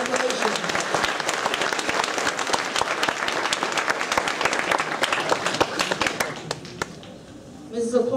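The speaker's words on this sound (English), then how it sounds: "Let's give Ms. Eisenberg's class a round of applause." An audience at a sixth-grade elementary school ceremony applauds a class with steady, dense clapping for about seven seconds before it thins out and fades, with some voices mixed in.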